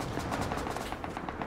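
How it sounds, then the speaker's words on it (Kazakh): Distant rhythmic automatic gunfire in the survival game Rust, a steady rattle of evenly spaced shots running continuously at moderate volume. "Ар жақта тағы да бірлер атысып жатыр."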